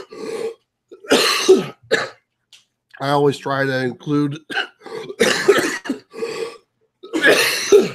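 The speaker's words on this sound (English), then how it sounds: "You guys are both coughing." Several people cough and clear their throats in short bursts, interspersed between pieces of a man's speech, close and moderately loud.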